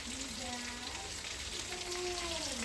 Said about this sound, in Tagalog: fried chicken for dinner